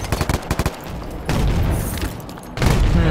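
Frag grenade explosion in the shooter video game Ballistic Overkill: rapid gunfire bursts at first, then a loud, rumbling blast and a second heavy boom near the end, with no talk.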